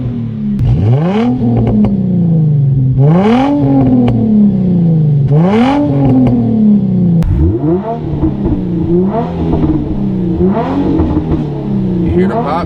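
Exhaust of an Infiniti G35 with a muffler delete and Vibrant resonator, revved several times in a row. Each loud rising rev falls away into crackling pops, close and raw, with no talking.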